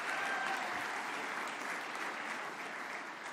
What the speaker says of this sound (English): please, a loud round of applause for all of our student nominees and winners.